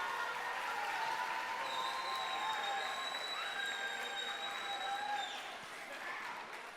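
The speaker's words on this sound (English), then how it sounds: "one more big round of applause for Team 193" Audience applause for a robotics team at an event, a steady wash of clapping heard from a distance with faint cheering. A whistle-like tone runs over it, and the clapping thins near the end.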